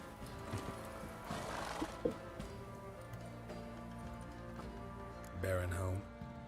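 Roach, a horse in The Witcher 3, lets out a whinny near the end amid light clip-clop of hooves and game ambience, close and moderately loud.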